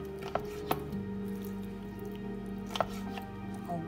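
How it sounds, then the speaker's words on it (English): A knife dices soy-sauce-seasoned steak on a board, making a few sharp, sparse chops over a low steady background hum. "I'll go ahead and be dicing to my size."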